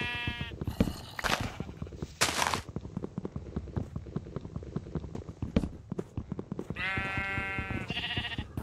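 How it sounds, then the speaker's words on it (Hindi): Minecraft goat bleats in a few loud, wavering bursts near the start and end, with rapid blocky footstep taps and game clatter filling the gaps. "अरे बकरी आई।"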